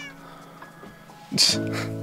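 A Minecraft cat gives a single bright meow midway through, loud and close, with steady game background tones running underneath and faint talk earlier.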